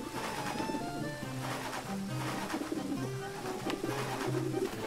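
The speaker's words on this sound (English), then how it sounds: "Can't get rid of those birds." Pigeons coo over and over in a Rush: A Disney Pixar Adventure game scene. The soft, repeated coos sit under steady game music and ambient noise, with no speech.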